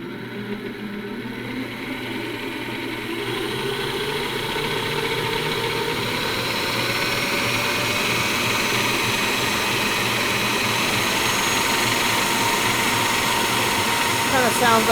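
A Kenwood Chef Major stand mixer runs steadily at full speed, a loud continuous whirring drone that grows slightly in intensity over time.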